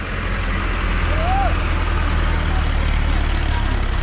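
A Mahindra, New Holland, Kubota or Powertrac tractor engine running at 2000 RPM in fourth gear gives a steady, heavy, low drone that holds at an even pitch from start to end.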